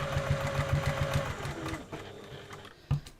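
A sewing machine set to a 3.5 stitch length stitches a soft fabric cushion in a fast, even run of close mechanical pulses. It slows and stops partway through, followed by a single thump.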